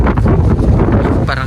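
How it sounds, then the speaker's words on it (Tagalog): Strong wind buffets the microphone with a loud, continuous low roar that barely lets up. "Parang lakas ng hangin."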